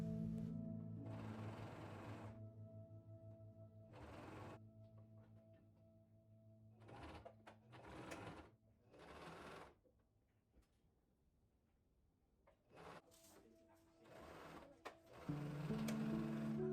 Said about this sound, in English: I'm sewing around the perimeter of the top and then down the sides at each corner